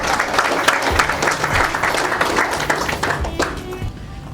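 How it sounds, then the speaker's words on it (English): Loud round of applause from wedding guests at an outdoor ceremony by the Gateway of India, steady dense clapping that fills the whole stretch and fades slightly at the end. "loud round of applause."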